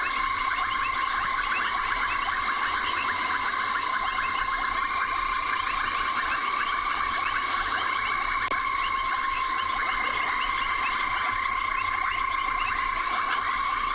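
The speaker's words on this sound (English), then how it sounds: "where you literally can't hear anything other than frogs" A loud, dense chorus of frogs fills the African bush at sunrise, layered pulsing calls blending into a constant, ringing wall of sound with no voices.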